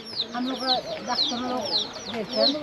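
Chicken chicks at a tribal market in Arunachal Pradesh, rapid high-pitched cheeping repeated many times close by, with people talking over it.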